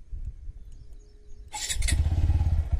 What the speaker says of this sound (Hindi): हम इंजन ऑन करते हैं